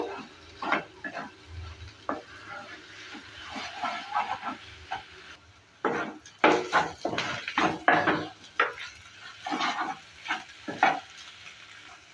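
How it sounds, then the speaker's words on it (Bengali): Eggs fry in a pan with onion greens as a utensil stirs and scrapes, giving irregular bursts of clattering strokes over a continuous sizzle, close by and with no talking. "ডিমটাকে ভালো করে আবারও ভেজে নিয়েছি।"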